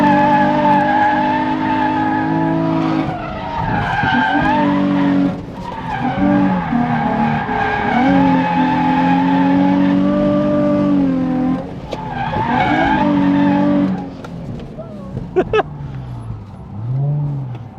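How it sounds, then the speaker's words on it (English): Tires of a stock Nissan 350Z squeal and skid in long screeching drifting stretches while the engine revs and strains nearby, with brief gaps between slides. "it's such a workout to get this car to drift"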